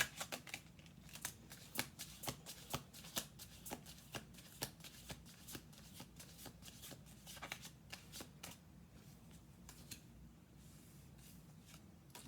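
Tarot cards shuffled by hand in a steady run of crisp riffling bursts, close and fairly quiet, with no talk over it.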